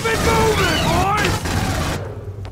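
Smart gun gunfire rattles in the Aliens Colonial Marines video game as loud, dense bursts under sweeping game effects, with shouting voices over the battle noise.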